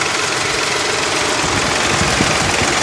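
A steady, loud car engine idle with a constant rumbling drone, close by and unchanging, no voices.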